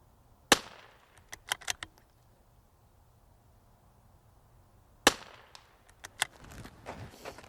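Bolt of a Tikka T1x MTR .22LR rifle in a custom chassis being cycled twice, each a sharp metallic snap followed by a quick series of clicks and clacks, close and clear against quiet room noise.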